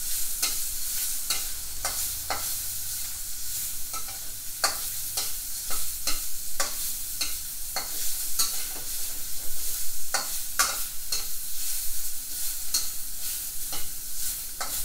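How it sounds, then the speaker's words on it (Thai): Pork belly sizzles loudly in a hot wok while a spatula scrapes and clicks in a steady stirring rhythm throughout. "เอาหมูลงรวนเลยครับ"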